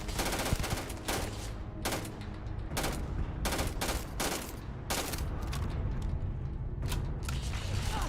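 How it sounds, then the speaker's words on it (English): Enemy gunfire in Starfield, repeated sharp shots and bursts at irregular intervals over several seconds, cracking loudly amid continuous combat noise. "Okay, they're firing at us from pretty far."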